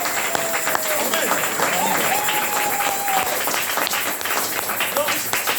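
Church congregation applauding at a service, with dense, sustained clapping from many hands, near and continuous, with voices calling out over it.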